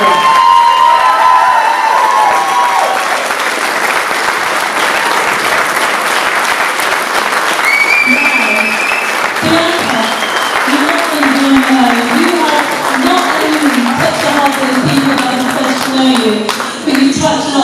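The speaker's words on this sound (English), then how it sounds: "big round of applause for Queensland Irfan" Loud, sustained applause from an audience at a Midlands business and community charity awards show, with voices talking over the clapping partway through.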